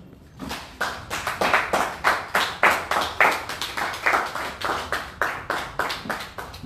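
Church congregation clapping together in praise of Jesus, a fast, steady rhythm of sharp hand claps sustained for several seconds, fairly close and without voices.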